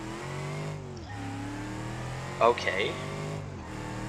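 Bruckell Bastion engine in a racing video game, driven with a manual gearbox on a hot lap, holding a steady loud drone with two quick upshift dips and a brief tire chirp, a voice speaking briefly over it.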